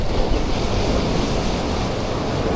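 Strong ocean waves surging and breaking at a fishing spot, a loud continuous roar of surf mixed with wind buffeting the microphone, with no pause in the wash.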